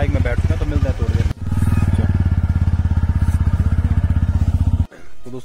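A motorcycle engine putters at a steady close rhythm while riding through the snowy Chopta valley, loud and continuous with brief breaks where the pulsing cuts out.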